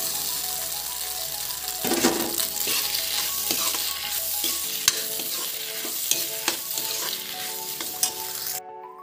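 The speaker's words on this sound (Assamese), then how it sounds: "মছলাখিনি মই ভালদৰে এনেকৈ লাৰি দিম" Spice paste being stirred in a hot pan for vegetable pasta, a steady broadband sizzle with repeated scraping strokes of a spoon against the pan, close and fairly loud, with no talking, ending abruptly near the close.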